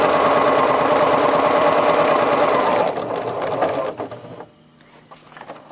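Sewing machine stitching a straight seam through paper, a steady rapid mechanical whir close up for about three seconds, then slowing and trailing off into quieter rattles before stopping.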